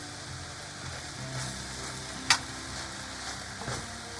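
Brown rice frying in a pan for fried rice, giving a steady, even sizzle close by, with one brief sharp click partway through and a faint scrape near the end.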